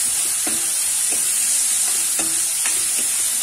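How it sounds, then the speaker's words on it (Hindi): Onions sizzle steadily in a hot pan for Punjabi chole dal, with a spoon scraping and stirring through them in several soft strokes over the constant frying hiss. "हम प्याज भूनने देंगे अच्छे से।"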